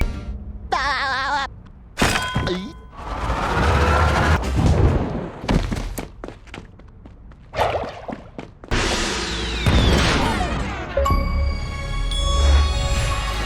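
Cutscene explosion in SpongeBob SquarePants: The Cosmic Shake video game: a chaotic run of booms, bangs and crashing effects with shrill cartoon sound effects and ringing tones, loud and close.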